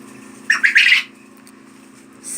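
Quail calling loudly up close, a burst of harsh squawking chirps lasting about half a second, then quiet with a faint steady hum, and another brief call starting at the very end.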